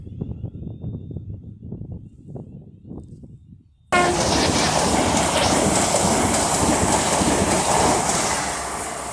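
A Class 807 train passes through Rugby station on the West Coast Main Line, opening with quiet rumble before a sudden loud rush of wheels and air that stays close and sustained, with no talk.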